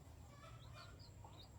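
A Black Australorp hen clucking softly in a backyard coop, with a few short, faint calls scattered through a brief stretch under a constant low hum.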